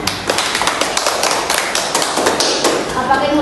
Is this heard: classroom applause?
yes